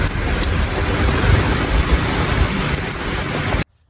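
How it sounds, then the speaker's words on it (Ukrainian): A summer thunderstorm with heavy, steady rain pattering on surfaces and low rumbles of thunder, loud and close throughout before cutting off abruptly at the end. "Ми дуже довго чекали ту грозу."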